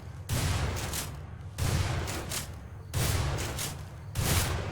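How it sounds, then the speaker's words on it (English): Four loud gunshots from an M500 shotgun, spaced about a second and a half apart and evenly paced, each a sharp booming blast that rings out before the next one. "The M500 is so powerful that the noise it makes could be heard hundreds of yards away."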